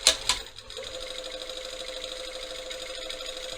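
Sewing machine stitching a jeans front seam with regular thread at a 2.5 stitch length, a couple of sharp clicks at the start, then a steady, close, continuous mechanical hum.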